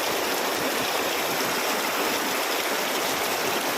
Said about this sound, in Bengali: দেখো বন্ধুরা, আমাদের এখানে কত জোরে বৃষ্টি এসে গেছে